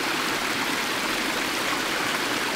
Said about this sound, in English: it sounds like there's a beautiful, beautiful waterfall